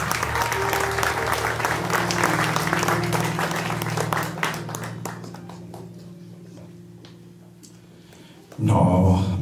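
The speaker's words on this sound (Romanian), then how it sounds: "vă rog să-i aplaudați" Wedding guests at a church blessing in Ipswich applaud the youngest couple, a dense, sustained wash of clapping that tapers off gradually before a sudden louder burst of sound at the end.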